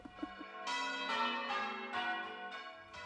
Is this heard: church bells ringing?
yes